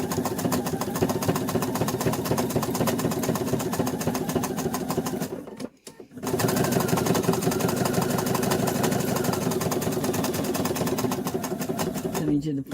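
Sewing machine stitching an appliqué, its steady rapid needle chatter running loudly and close, stopping briefly for a pivot near the middle before resuming, with a person talking over it.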